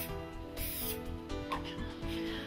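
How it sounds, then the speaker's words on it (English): A short, hissing burst of vegetable cooking oil sprayed lightly onto a mat, heard once against a steady tonal background. "So we'll just give it a light spray."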